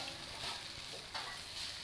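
Sun-dried bitter gourd pieces sizzle in a pan while being stirred, a close, continuous crackling fry with soft scraping strokes of the spoon and no talking.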